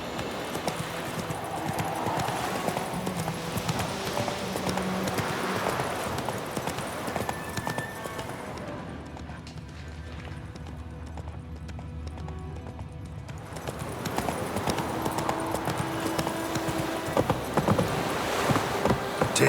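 A horse gallops in The Witcher 3 video game, steady rapid hoofbeats clopping close and loud, fading briefly to a quieter stretch before the rhythmic clip-clop returns strongly.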